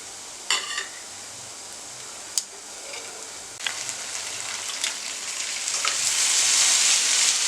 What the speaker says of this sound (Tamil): இப்போ நம்ம கலக்கி வச்சிருக்கிற அந்த சன்னா தண்ணி வந்து நம்ம ஊற்றிக்கலாம்